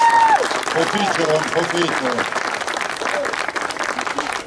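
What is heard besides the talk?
audience applause at award ceremony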